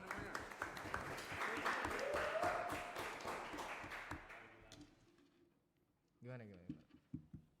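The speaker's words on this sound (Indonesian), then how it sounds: "Tepuk tangan namanya." Small group clapping at a graduation celebration gathering, a brisk run of claps in the first half that dies away, followed by a voice speaking near the end.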